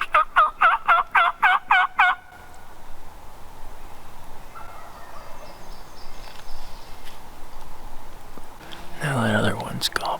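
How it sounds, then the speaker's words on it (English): A wild turkey gobbles in a rapid, loud rattling burst of about eight notes at the start, then quieter outdoor ambience follows with a further call near the end. "Now that other one's gobbling."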